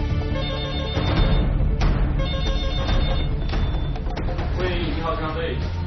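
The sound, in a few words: telephone ringing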